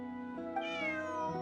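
A single drawn-out cat meow from the Genshin Impact video game, rising and then holding steady for about a second, close and clear with no talking over it.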